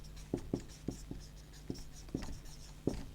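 Chalk or marker tapping and scratching on a classroom board in short irregular strokes, close and fairly quiet, with no talk during the writing.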